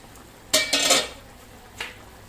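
Vegetables go into a pot of simmering coconut milk with two loud clattering, splashing bursts close by, then a softer knock. A quiet kitchen hiss runs underneath.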